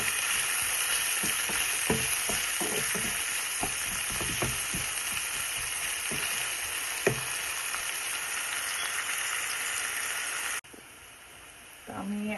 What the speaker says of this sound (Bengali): এখন পেঁয়াজ আর রসুনটাকে একটু ভেজে নেব।